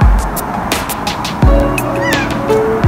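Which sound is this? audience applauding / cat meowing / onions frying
cat meowing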